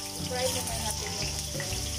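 Potatoes going into hot oil in a pan, a continuous bubbling sizzle with a wet, watery crackle, close and steady for two seconds against faint kitchen background.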